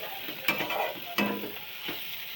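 Chili thecha (kharda) fries in a pan with a soft steady sizzle, broken by a few sharp scraping strokes of a spatula as it is stirred.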